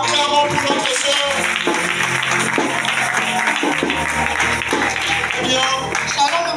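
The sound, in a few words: congregation applauding to welcome a speaker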